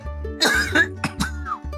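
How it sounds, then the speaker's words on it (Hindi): Several sharp coughs in quick bursts, close and loud, over a steady low hum. "इतना खांसता है।"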